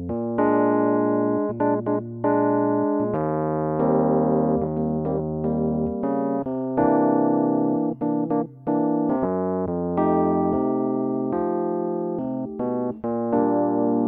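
Piano plays the C section of a song as a sequence of full, sustained chords at an unhurried tempo, each change ringing clearly with no voices.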